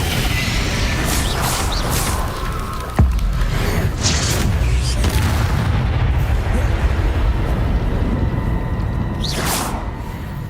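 A Confringo blasting spell goes off in Hogwarts Legacy with a sharp booming burst early on, followed by a dense, rumbling wash of game effects and a voice over the top.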